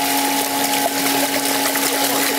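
Water runs continuously while dyed yarn is washed in a textile works, giving a steady splashing rush under a constant mechanical hum, loud and close.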